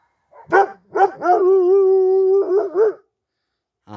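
Kangal dogs barking outdoors in a yard, a few loud close barks followed by a long drawn howl-like bay and more barks, with no talk.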